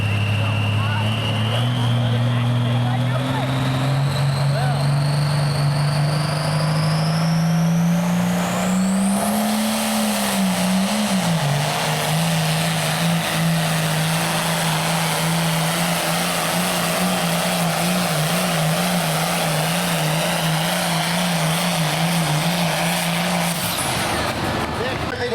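A Case 1070 pulling tractor at a tractor pull roars loudly and continuously, its engine pitch climbing, wavering and then holding steady before cutting off near the end, with a PA announcer talking over it.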